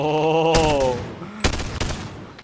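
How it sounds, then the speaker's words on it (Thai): Simulated M4 rifle fire in a virtual reality shooter played on a Pico 4 headset: a steady tonal game sound gives way to a few sharp, loud gunshot bursts, close and without talk. "ไหนลองยิง M4 ดิจอยจะสั่นแค่ไหน"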